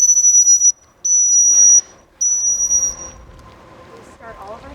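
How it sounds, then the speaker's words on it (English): Three loud, shrill whistle blasts at an aquarium, each about a second long with short gaps, signalling beluga whales to start a session, followed by quiet background sounds. "Sessions by blowing 3 whistles, and that's kind of like the start signal to them"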